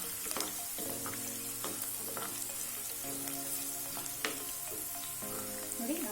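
Turmeric is stirred into sizzling citron rice seasoning with green chillies in a pan, a soft steady frying hiss under repeated scraping strokes, fairly quiet with no voices.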